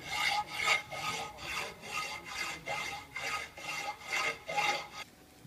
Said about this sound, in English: With just a little filing left to do, the new lid is at last beginning to take shape.